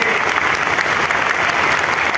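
A loud, dense burst of crowd clapping rises from an audience for their parents, continuous and energetic throughout with no voices on top.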